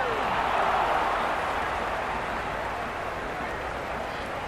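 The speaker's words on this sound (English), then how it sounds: "Will you listen to that crowd? They are loving this." A large crowd roars and applauds steadily in the distance in the cricket video game Cricket 26 during an IPL match, a dense wash of cheering with a commentator's voice over it.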